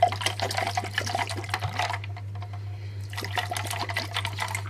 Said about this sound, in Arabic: نحط ميه